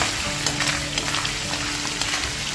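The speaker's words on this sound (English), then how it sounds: "So we will just stir this occasionally until the meat is starting to turn brown in color." Pork frying in cooking oil for binagoongan, a dense, loud, continuous sizzle with soft stirring scrapes throughout, close up and without voices.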